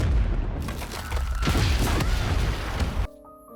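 A loud, sustained blast rumbles and crackles for about three seconds, then cuts off abruptly into quiet, from an explosion in the animated series Arcane: League of Legends.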